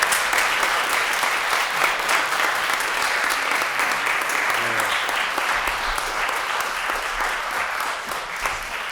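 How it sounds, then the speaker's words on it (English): An audience at an EMS bureau promotion ceremony claps steadily for the paramedics, a continuous dense wash of applause with faint murmurs and voices underneath. "Let's clap for it."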